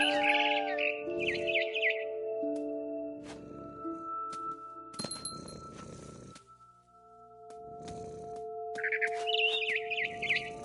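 Bird chirps and tweets from the video game What Remains of Edith Finch, several short bursts scattered over a sustained musical tone bed, fairly close and moderately loud, no talking.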